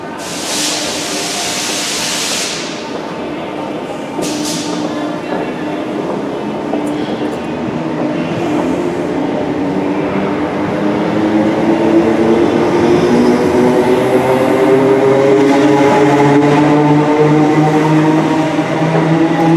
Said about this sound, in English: That goes 319377, working a service to Blackpool North.